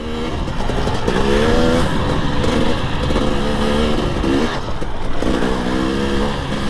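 A KTM 300 XC-W TPI two-stroke dirt bike engine revs hard and close, its pitch rising and falling in repeated throttle bursts with a brief dip near the middle, loud and alone with no talk.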